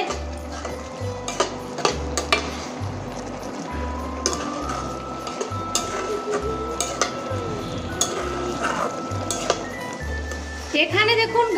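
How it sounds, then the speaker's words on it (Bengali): Carrot halwa being stirred in a pan, with a rhythmic, repeated scraping and clinking of a spoon against the metal under a voice talking throughout. "এবার একটু নেড়ে নিচ্ছি"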